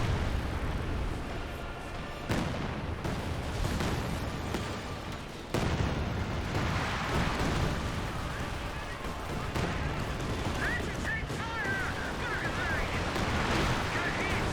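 Artillery shells and gunfire boom across a Company of Heroes battlefield, a dense, continuous barrage of distant blasts and rattling shots with sharper impacts standing out.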